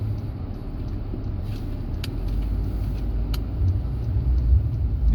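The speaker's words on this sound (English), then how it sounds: "So this big truck, they are start cleaning snow." A big snow-clearing truck's engine rumbles on a city street after a snowstorm in Montreal, a deep steady drone that grows slightly louder toward the end, with no talking.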